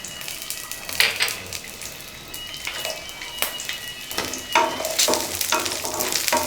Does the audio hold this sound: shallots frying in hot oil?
yes